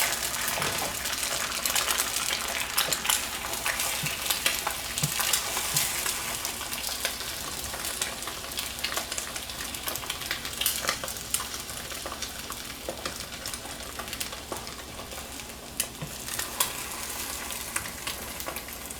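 Hamburger meat fries in an overly hot skillet with a dense, steady sizzle and crackling spatter that continues evenly for nearly twenty seconds, close and unbroken by talk.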